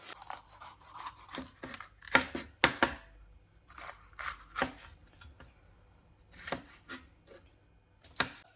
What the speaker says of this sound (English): just chop it up into little pieces, like so, and just chuck it in